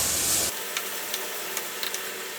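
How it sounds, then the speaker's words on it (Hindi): Bhindi chicken with green chillies and coriander fries in a pan, starting with a loud burst of hiss that settles into a steady soft sizzle dotted with small crackles and pops. "वो डालने के बाद इसको हम 1-2 मिनट के लिए फ्राई कर लेंगे।"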